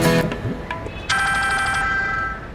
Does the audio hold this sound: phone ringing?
yes